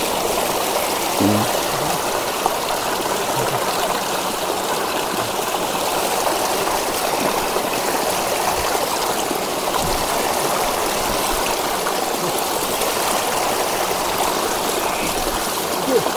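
Steady running water pours without pause during a bath, a constant loud splashing hiss filling the whole stretch, with occasional faint voices underneath.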